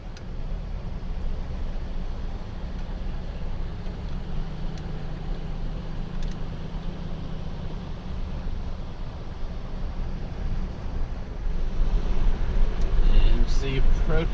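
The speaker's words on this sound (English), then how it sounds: "you can probably hear the traffic going by" Traffic passing on Interstate 77 near Brush Creek Falls State Park in West Virginia, a steady low road rumble and whoosh heard from a distance, swelling louder near the end.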